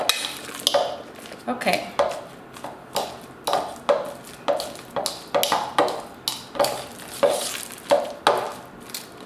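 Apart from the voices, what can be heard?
mashing and stirring bananas in a bowl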